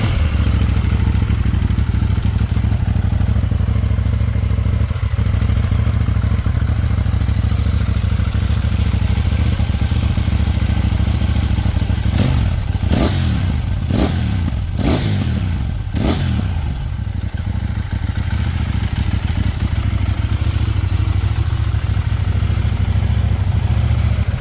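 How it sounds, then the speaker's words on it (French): KTM 790 Duke motorcycle engine idling steadily up close, then blipped through several sharp throttle revs in quick succession before settling back to a loud, even idle. "je vais vous démarrer la moto pour vous faire écouter le bruit"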